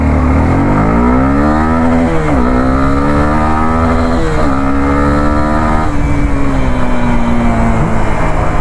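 A Suzuki Gixxer SF250 motorcycle with a 250 cc engine accelerates hard, its loud, close engine note climbing in pitch, briefly dropping a few times, then climbing again.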